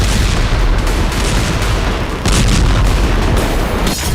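Artillery shelling on the Kursk front in western Russia rumbles in dense, continuous booms and blasts, loud and heavy with a few sharper impacts standing out.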